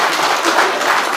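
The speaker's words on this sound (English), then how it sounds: "so big round of applause, please" Audience in a tent applauds a guest speaker at a members' day gathering, a steady wash of many hands clapping together, loud and continuous with no talk over it.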